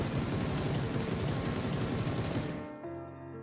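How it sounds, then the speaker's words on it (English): Beryl M762 assault rifle in PUBG sprays a long, loud, unbroken burst of automatic fire at a wall, then stops abruptly, leaving a faint ringing tail. "Let's start with the first spray test without any attachments to get the base performance of the weapon"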